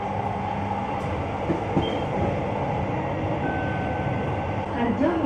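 An LRT Jabodebek light rail train on the Cibubur line, departing Ciracas station, rumbles steadily along the track, a constant low roar of wheels and motor filling the whole stretch.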